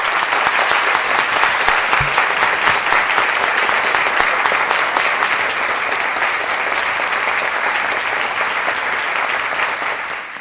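Congregation at a church service applauding fellow church brothers born in Argentina, steady dense clapping that stays loud and even throughout, with no talking over it.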